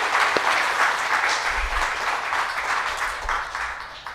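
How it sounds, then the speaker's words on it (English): A large audience gives sustained applause at a formal presentation of the original 1734 Murillo Velarde map to the President, a steady even roar of many hands lasting several seconds with no talk. "deserves a very large round of applause"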